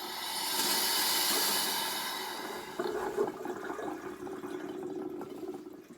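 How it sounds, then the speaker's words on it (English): Water rushing and hissing into a Truma Ultrastore caravan water heater as it fills, a steady broadband flow that shifts to a lower, gurgling fill partway through, close by with no voices. "That's the water you can hear going into the system. You can hear it filling up."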